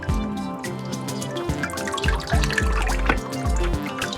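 Water drips and dribbles out of the jaw of a Mattel Mosasaurus toy, a close sequence of quick liquid plops and small splashes trickling at an uneven rhythm.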